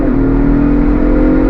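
Engine of a 2023 Ford Bronco Raptor revving under throttle, a loud, close, sustained roar with the pitch rising slightly at the start.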